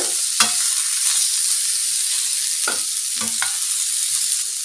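Carrots stir-frying in a hot pan give a steady close sizzle, broken by a few sharp scraping strokes of the stirring spoon, with no talking.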